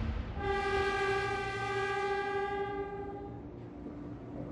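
A Shinkansen bullet train picking up speed on a test run, a sustained, steady whining tone over a rumbling roar, loud and close, fading slightly toward the end.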